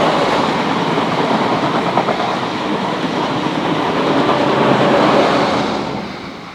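Passenger train ST24, led by power cars 2009 and 2008, rolls past on the Main South line in New South Wales, Australia, a loud, sustained roar with rhythmic wheel clatter that eases off at the end.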